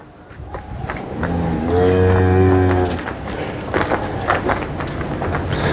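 A Jersey cow lets out one long, loud moo nearby, followed by shuffling and movement sounds.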